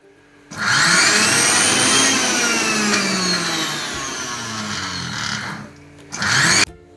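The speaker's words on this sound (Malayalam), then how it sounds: "ഇനി ഇത് നമുക്കൊന്ന് മിക്സിയിൽ ഇട്ടിട്ടൊന്ന് കറക്കി കൊണ്ടുവരാം" A mixer grinder whirs loudly for several seconds grinding a dry spinach mixture into powder, its pitch shifting as it spins, stops briefly, then gives a short second burst.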